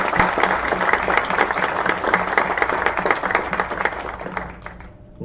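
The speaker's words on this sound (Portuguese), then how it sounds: "aqui peço a vocês uma salva de palmas a todas as empresas" Applause from the audience at a corporate citizenship awards ceremony for participating companies: a loud, dense round of clapping that gradually thins and fades out toward the end.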